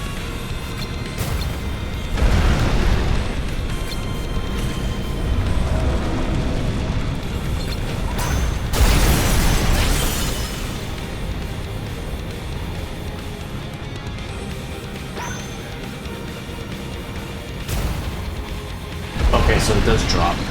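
Cannon blasts in the video game Visions of Mana boom out as repeated heavy explosions at irregular intervals, some sharp and loud, over continuous game sound while a player talks.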